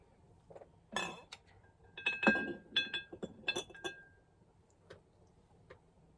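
A teal Tiara pressed-glass relish tray made by Indiana Glass is handled and set down, giving a cluster of bright clinks and ringing taps, loud and close, that thin out into a few faint knocks in a quiet room.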